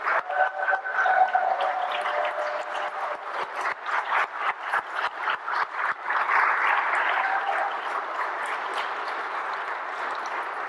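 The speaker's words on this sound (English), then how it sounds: "Let's give them a round of applause." An audience at the Felton Institute's 130th anniversary celebration applauds board members as they stand. The clapping is loud and sustained, with a rippling rhythm that stays dense for about eleven seconds. No one speaks over it.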